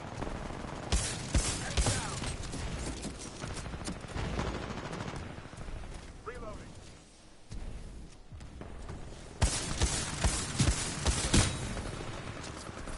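Mozambique shotgun fire from the game Titanfall 2 comes in clusters of sharp, rapid shots, mixed with other combat noise. The firing pauses briefly midway and then resumes loudly.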